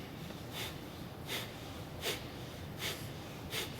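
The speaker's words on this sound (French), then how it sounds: "la respiration par l'estomac qui pousse l'air par le nez" Kapalabhati yoga breathing forces air out through the nose in five sharp, evenly spaced snorting exhalations, close and loud over a low steady background.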